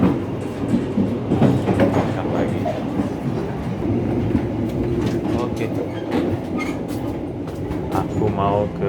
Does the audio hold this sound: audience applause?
no